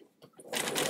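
A sewing machine stitches binding onto a quilt, its motor starting after brief faint sounds and then running steadily and loudly for under a second.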